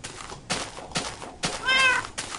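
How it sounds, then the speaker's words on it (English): A pet cat in the game Minecraft meows several times in short, close, fairly soft calls, with one longer, higher meow near the end, and no talk over it. "there goes my little cat."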